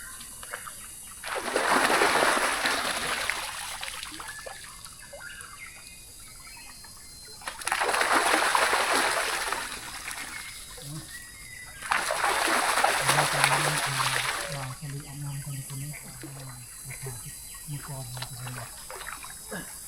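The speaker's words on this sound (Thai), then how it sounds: "ก่อนที่เดินทางต่อนี่อาบน้ำก่อน" Outdoors on a mountain trek, water is poured and splashed in three long bursts as someone bathes, close and fairly loud, with quieter trickling and someone talking in between.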